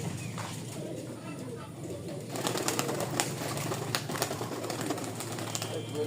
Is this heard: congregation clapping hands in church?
no